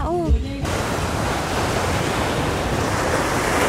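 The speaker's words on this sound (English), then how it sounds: "Sobrang healing nung sounds. Ang lakas ng waves." Ocean waves crash on a beach in Zambales, a loud continuous roaring surf wash close by, with wind buffeting the microphone and a brief voice at the very start.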